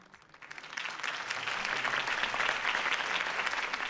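Applause from a crowd in Batman: The Telltale Series swells in from quiet and holds steady, a dense wash of clapping at moderate volume.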